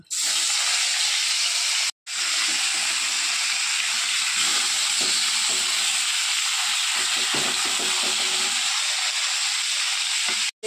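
Bata fish frying in hot oil in a wok, a steady loud sizzle and hiss that continues almost without a break, with a brief dip near the start and no speech.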